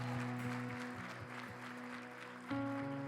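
A church congregation applauds during a conference worship session, steady clapping over sustained organ-like music with a louder swell near the end.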